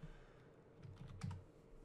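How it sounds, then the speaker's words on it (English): Numbers are typed on a computer keyboard while working in Blender, heard as a few soft, quick key taps close by over a low steady room hum. "I can manipulate that just by typing in numbers"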